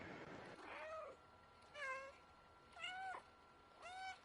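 Cat meows from the video game Stray: four separate harmonic mews spaced about a second apart, clear and fairly close over a faint steady background hum, with no talking.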